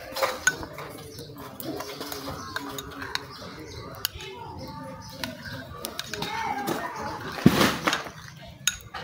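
Chicken wing seasoning stirred with lemon juice in a bowl, irregular close clinks and scrapes of a utensil against the dish, with quiet background chatter and faint birdsong.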